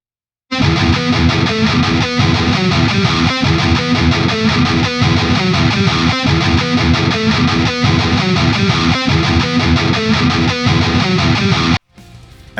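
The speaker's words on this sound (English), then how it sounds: "The harmonized version of the riff sounds like this." A distorted electric guitar plays a harmonized riff, dense and loud with a steady driving rhythm, continuous from start to near the end and then cut off.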